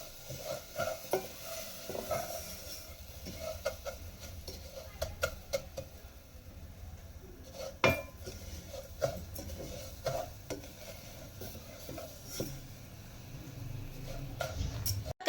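Sugar browning in a pan for rabri doodh, with faint sizzling under repeated scraping and clinking stirs of a spoon against the pan, quiet and close.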